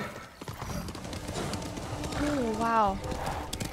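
Horse hooves clip-clopping at a steady pace in the PS5 game Ghost of Tsushima, rhythmic clops under a person talking, with a brief horse whinny near the end.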